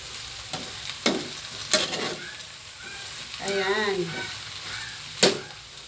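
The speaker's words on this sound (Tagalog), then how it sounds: "Ganyan lang po magluto si Ate Bing Bingyo ng pancit" Pancit noodles frying and being stirred in a pan in a home kitchen, with a steady sizzle under several sharp scraping strokes of a utensil and a longer wavering scrape, close and fairly loud.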